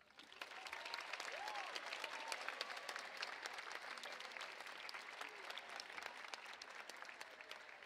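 Generous audience applause fills a live concert hall at a school music show in La Vall d'Alba, a steady dense clapping that holds for the full duration at moderate distance.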